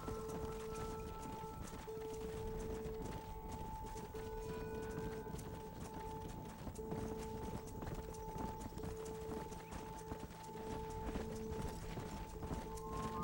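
Steady clip-clop of horse hooves in Red Dead Redemption runs throughout while herding cattle, many hoofbeats in a quick rhythm under a constant low hum, no voices.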